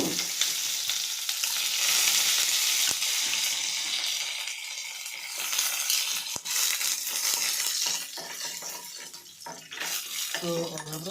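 Chana dal sizzles and crackles loudly in hot oil in a pan alongside urad dal, a bright continuous frying hiss with scattered pops and stirring clatter, fading slightly toward the end.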